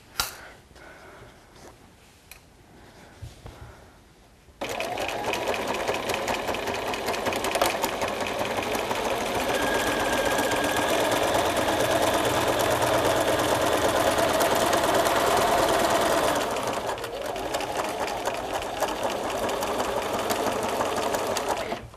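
A sewing machine stitches a 1.5 cm seam down the side of fabric notebook-cover pieces and over piping, running steadily and close for most of the stretch after a quieter start.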